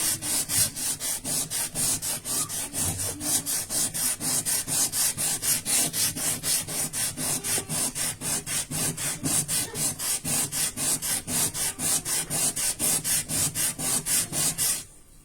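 Sandpaper rubs against an ordinary chondrite meteorite in fast, regular back-and-forth strokes, a steady scratchy rasp that keeps up close and even until it stops.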